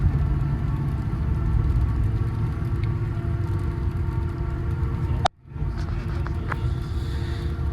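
A wrecked, salvage-title Ford F450 4WD Platinum truck drives along with a steady low engine rumble and road noise, broken by a brief dropout near the end before the drone resumes.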